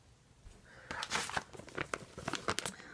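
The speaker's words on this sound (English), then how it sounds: "now I'm going to get my scissors and I'm going to cut around the spool" Scissors snipping through fabric around a thread spool at a sewing table, giving a run of short, close crisp cuts and crinkles that grow busier after the first second.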